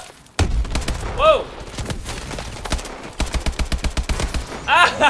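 Call of Duty video game gunfire: a sharp opening shot, scattered bursts, then a rapid run of evenly spaced automatic rounds, close and loud, with whistling or ricochet sounds mixed in.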